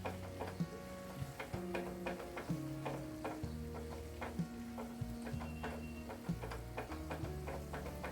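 Herbal hair oil with hibiscus powder stirred in a pan over low heat, a soft continuous sizzle with irregular light clicks and scrapes from stirring, heard alone over a faint steady hum.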